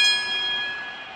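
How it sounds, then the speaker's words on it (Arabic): A single bell strike rings out clearly, a bright metallic tone with several sustained overtones that slowly decay over about a second, heard alone. "اضربوا الجرس يا ولد."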